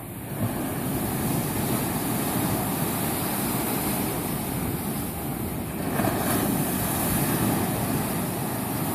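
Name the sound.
sea waves breaking on the shore in Tel Aviv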